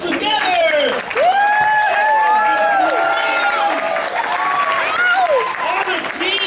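An audience claps for the leaders at a Vacation Bible School puppet show, with sustained applause and cheering. A voice carries over the clapping throughout.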